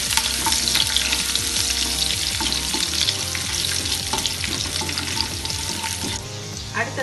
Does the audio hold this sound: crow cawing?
no